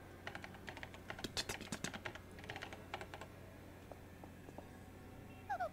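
Keyboard typing in the Paper Mario game, a run of quick, uneven clicking keystrokes, close and fairly quiet, ending with a brief high chime.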